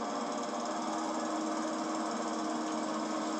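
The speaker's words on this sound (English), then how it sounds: "The lawnmower's still going." A lawn mower runs continuously close by, a dense, buzzing engine drone with a rattling edge that holds steady at constant loudness while a yard is being landscaped, with no voices.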